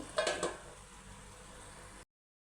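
A metal lid comes down on a beef biryani pot, making a short clattering clank near the start, then a low steady hiss from the covered pot, close and quiet.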